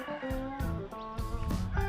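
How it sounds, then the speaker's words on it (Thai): Roosters and chickens call in the early morning at a Hmong mountain lodge on Doi Pui, harmonic crowing and clucking heard moderately near against a quiet background. "เสียงไก่นะครับ ร้องปลุกเราแต่เช้าเลย"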